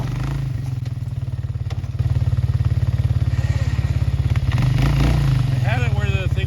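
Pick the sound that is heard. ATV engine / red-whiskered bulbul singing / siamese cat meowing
ATV engine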